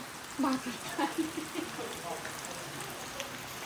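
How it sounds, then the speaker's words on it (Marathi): Rain falls steadily on a flooded rice paddy field, a soft, even outdoor hiss that continues throughout, with a faint voice briefly audible near the start. "आणि या शेतात पाऊस पडतोय जसं तुम्हाला दिसत आहे आता"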